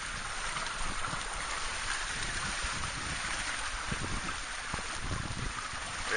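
A sailboat running fast before a good wind on the Black Sea, sometimes surfing, with a steady broadband rush of water and wind along the hull that stays loud and unbroken throughout.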